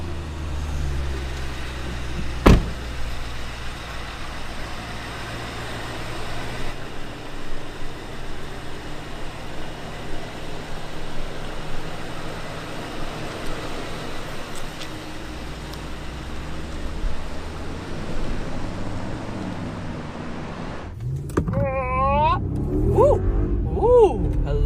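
Maybach SUV with a 4-litre V8 engine starting with a brief thump, then a steady, rumbling drive inside the cabin. The engine and road noise stay even throughout, and a voice speaks near the end.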